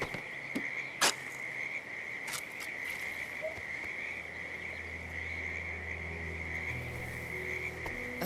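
Frogs croak near a creek in the Hitman 3 game world, a steady layered chorus of calls with a sustained high insect-like trill running throughout and a sharp click near the start.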